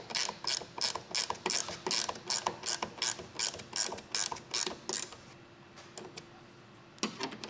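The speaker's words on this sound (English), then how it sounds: "we'll go up top and tighten the top bolts." A ratchet tightening the top ladder bolts on a Toyota 4Runner, rapid rhythmic clicking in short bursts close by, pausing briefly before a few final clicks, with no talking.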